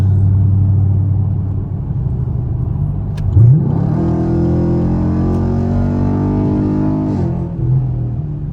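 A straight-piped Camaro SS engine rumbles at idle in a tunnel at night, then revs up sharply and pulls hard as the pitch climbs, before easing off again.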